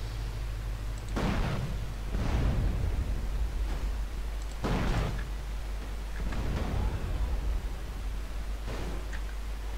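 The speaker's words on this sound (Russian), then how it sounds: "теперь взрываем машины" Cars blowing up in GTA San Andreas The Definitive Edition: about four heavy booming blasts spaced a couple of seconds apart, each with a rumbling tail over a low steady hum.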